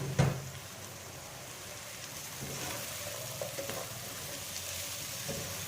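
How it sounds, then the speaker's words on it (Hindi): Chopped cabbage frying in a pan for a Spanish omelette, giving a steady, soft sizzle with a brief louder crackle at the start and faint stirring clinks throughout. "और साथ ही मैं इसमें डाल दूंगी कटी हुई बंद गोभी।"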